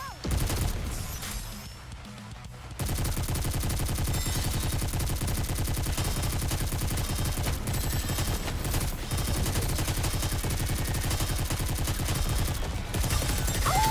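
Rapid automatic gunfire from the mobile shooter game Goddess of Victory: NIKKE rattles in a dense, loud, continuous burst after a short quieter opening, with other battle effects layered in.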